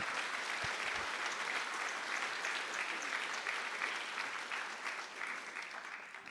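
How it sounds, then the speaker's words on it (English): Steady, sustained applause from a jazz festival concert audience, many hands clapping at once, fairly distant and gradually fading toward the end. "Give everybody a round of applause."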